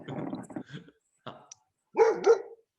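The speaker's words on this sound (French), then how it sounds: "il y a les chiens qui arrivent" Dogs arriving give a couple of short, fairly close barks, with people talking at the start before the barking.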